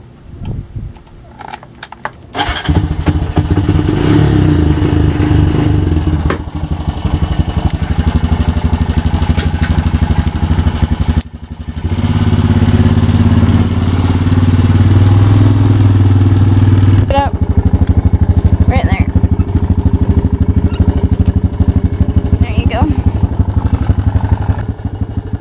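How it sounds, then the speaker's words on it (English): A four-wheeler ATV engine runs loud and close, a steady rumbling drone that changes pitch a few times as it revs and settles, with people talking over it. "We need to put gas in the four-wheeler first."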